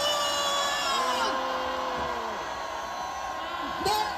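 Crowd at a rally opposing impeachment outside the investigation office, shouting and cheering in a sustained roar with rising whoops, holding steady throughout and swelling briefly near the end.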